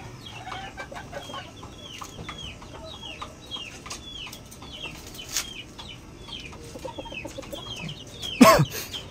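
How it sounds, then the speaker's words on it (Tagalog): Chicks and hens on a backyard farm with newly laid eggs, repeated high peeping and soft clucking throughout, with a brief louder squawk or flutter near the end. "Mga sisiyo natin."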